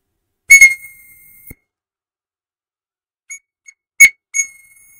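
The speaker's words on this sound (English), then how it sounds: "You didn't hear the whistle." A shrill whistle sounds at a 3D printer kit build: a loud burst of bright tones near the start, then a pause of silence and a few shorter chirps and a strong blast toward the end.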